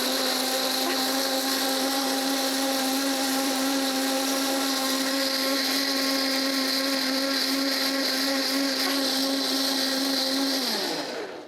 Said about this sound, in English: Now I'm gonna blitz this up until it's nice and smooth.